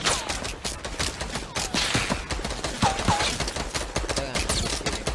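Rapid bursts of gunfire in the Fortnite battle royale video game, dense overlapping shots crackling almost continuously, loud and close, with faint voices underneath.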